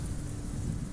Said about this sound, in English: and lightning comes crashing down, going down